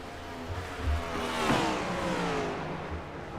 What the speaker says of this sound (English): You hear these guys downshifting through some of those corners.